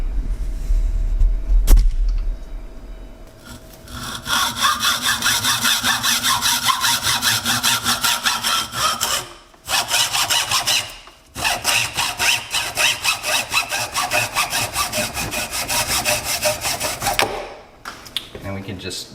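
A hand saw cuts through a carbon fiber tube with steady, rapid rasping strokes, loud and close. The sawing runs nearly continuously, broken by a couple of brief pauses, after a short knock at the start.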